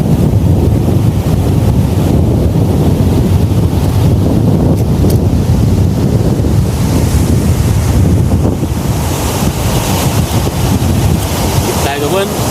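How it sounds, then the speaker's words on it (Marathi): Rough sea waves crashing onto a shore in strong wind, a loud, constant roaring surge with heavy wind buffeting that swells and churns without pause. "लाटा बघा मंडळी कशा येतात"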